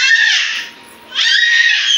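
Two young girls scream loudly while playing, a sustained high shriek that drops away briefly before a second burst rises again, close and unaccompanied by talk.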